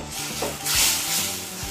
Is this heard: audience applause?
no